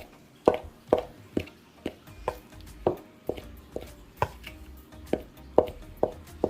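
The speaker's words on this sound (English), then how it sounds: "And then I'm just going to cut it into the flour." Plant-based fat being cut into flour for Jamaican vegan vegetable patty dough, a dozen or so soft, regular thudding cuts against a bowl, close and quiet, with no talking.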